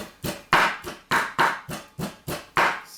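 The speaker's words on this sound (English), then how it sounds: "I like to mince my meat myself sometimes" Rhythmic knife chops mincing meat on a board, about ten sharp strikes in an even, steady beat, close and fairly loud with no talking.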